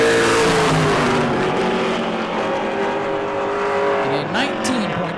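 Pro Late Model race car at New Smyrna roaring past during a qualifying lap, a loud sustained engine drone with a rising then falling pitch as it goes by, with an announcer talking over it throughout.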